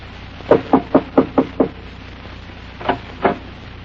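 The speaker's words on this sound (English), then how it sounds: "I went up to the door and knocked." Knuckles rap on a wooden cabin door, first in a quick run of six even knocks, then a pause, then two more spaced knocks, sharp and close against a low room hum.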